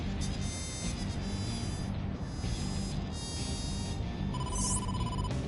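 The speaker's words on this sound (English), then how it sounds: "Date, incoming call from the boss." A telephone rings in the video game AI: The Somnium Files, a repeating electronic ringtone pattern over a constant background hum, continuing steadily with no talk.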